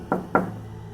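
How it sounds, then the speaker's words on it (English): Two quick hollow knocks on a wooden door, close and fairly loud, evenly spaced and followed by quiet, in the manner of a horror story sound effect. "this time the knocking came from the back door"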